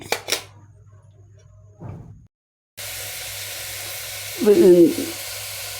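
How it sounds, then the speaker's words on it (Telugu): Ghee with ginger, onion, beans and green chillies frying in a pressure cooker gives a soft hiss that drops out, then resumes, with a louder sizzling burst near the end. "కిచిడీకి ఫస్ట్ నెయ్యి వేసుకున్నాను అల్లం ముక్కలు ఉల్లిపాయ ముక్కలు బీన్స్ పచ్చిమిరపకాయలు వేయించుకుంటున్నాను కుక్కర్లో"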